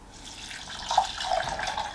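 Hot water pours steadily into a Ninja soup maker jug holding lentils and seasoning, filling it up to the max line with a continuous close splashing rush lasting a couple of seconds, with no talking.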